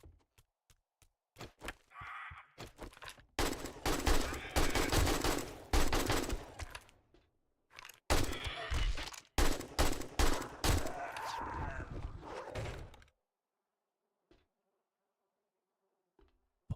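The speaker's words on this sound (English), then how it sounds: "I'm just gonna use the AK." AK rifle fire in the Resident Evil game set in the Spencer Mansion: rapid automatic bursts, loud and close, several sustained volleys separated by short gaps, with single shots at the start and silence at the end.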